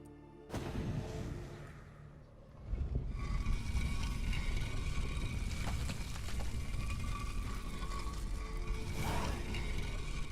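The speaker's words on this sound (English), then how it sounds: "The mechanism which releases the latch reacts only to a higher vampire blood." A vampire hideout latch mechanism in Witcher 3 opens with a mechanical clatter and a ratcheting grind, then a loud, sustained rumble that continues steadily for several seconds with a few sharper knocks.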